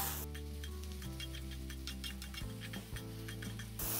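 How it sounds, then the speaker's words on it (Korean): Aged kimchi and minced garlic stir-fried in a pan, with a steady soft sizzle and irregular clicking scrapes of a utensil against the pan over low background music, no talking. "다진 마늘 반 스푼 넣습니다. 같이 볶아줍니다."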